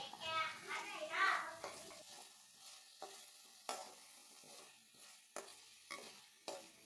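Poppy seeds and coconut paste for a mutton liver curry fry quietly in a pan, a faint sizzle punctuated by sharp spoon taps, while children's voices are heard early on.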